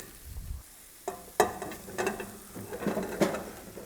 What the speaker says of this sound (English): In go the carrots and the celery. Give them a little bit of mix, and then right behind them, the butternut squash.